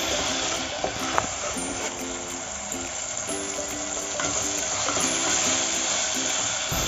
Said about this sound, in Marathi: कांदा नरम होईपर्यंत व्यवस्थित परतून घ्यायचा